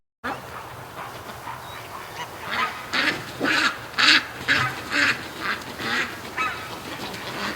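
Repeated high, bright peeping calls of two-day-old Muscovy ducklings in quick bursts, fairly close, over a steady outdoor background hum on a cool morning.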